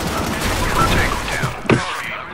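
Rapid gunfire from a gun in the online shooter Soldier Front bursts loudly, mixed with game sounds and a voice talking, ending in one sharp, heavy shot.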